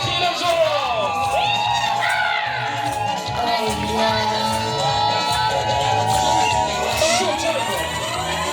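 Guests at a traditional wedding shout, whoop and cheer loudly and without pause as a dense crowd, with music playing underneath.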